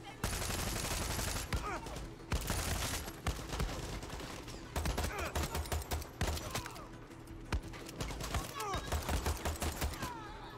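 Rapid bursts of gunfire in Far Cry 6 crack around the player in repeated volleys, loud and close, with brief gaps between the clusters of shots.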